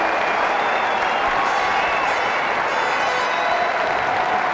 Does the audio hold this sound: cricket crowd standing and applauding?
yes